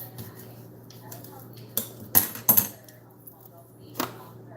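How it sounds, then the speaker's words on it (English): A knife slices through half a lemon on a cutting board in a home kitchen, giving a few sharp, close clicks and taps against the board over a low steady background hum. "I take the other half of the lemon and I just do a few slices"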